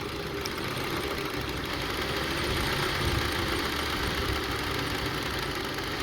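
A Honda CR-V engine idles roughly with a spark plug coil disconnected and only three cylinders firing, giving a dense, uneven, shaking rumble that holds steady and fairly loud throughout.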